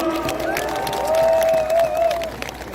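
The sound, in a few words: crowd applause at campaign rally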